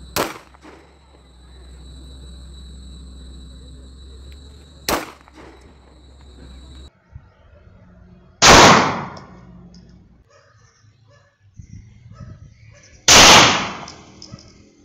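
A Stoeger STR-9 9mm pistol fires several sharp, loud shots spaced seconds apart, each cracking report followed by a brief echo over a quiet outdoor background.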